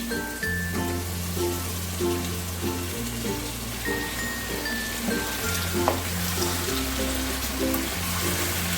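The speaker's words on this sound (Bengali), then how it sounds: "দুই থেকে তিন মিনিট একটু চিকেনগুলোকে এপিট ওপিট করে ভেজে নেবো" Steady sizzling of chicken pieces frying in hot oil over high flame, a continuous crackling hiss with a low hum underneath and no talking.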